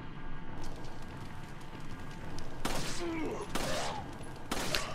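Three sharp, loud gunshots ring out from the Resident Evil 4 video game, spaced about a second apart over a low background of game ambience.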